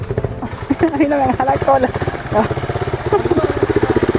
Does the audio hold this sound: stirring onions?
no